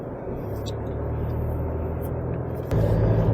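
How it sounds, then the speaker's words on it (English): A 2020 Toyota Hilux SR5 ute on the road, its engine and tyre rumble a steady, close drone from inside the cabin that swells slightly louder near the end. "I'm gonna go for a drive in the SR5"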